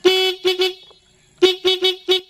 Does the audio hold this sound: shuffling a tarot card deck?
no